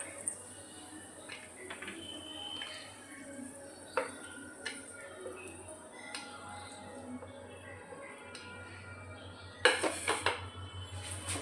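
A pot on a low gas flame is stirred while making sarpuria, with soft scraping and clinks of a utensil against the metal pan, a sharper clatter near the end, quiet and close.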